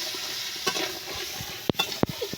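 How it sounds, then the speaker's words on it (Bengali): Crab fries in a pan with salt and turmeric, a soft low sizzle interrupted by a few sharp clacks and scrapes of stirring against the pan. "নুন দিয়ে দিলাম, হলুদ দিয়ে দিলাম, দিয়ে ভালো করে ভেজে নেব"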